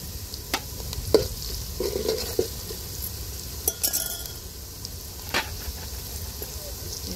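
Ginger and ground coriander frying in a pan, stirred with a spoon in scattered scraping and clinking strokes over a faint steady sizzle, close and fairly quiet with no talk.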